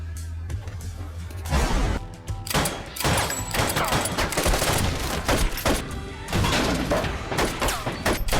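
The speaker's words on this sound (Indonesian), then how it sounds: "Pertempuran baku tembak pun terjadi di ruangan si Didi." A film gunfight in a room: dense, loud volleys of gunfire and impacts crack out repeatedly in rapid bursts for the whole stretch, with brief gaps between clusters and no talking.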